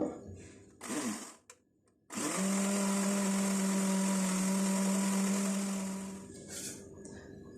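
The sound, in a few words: grinding onion and yogurt paste in a mixer grinder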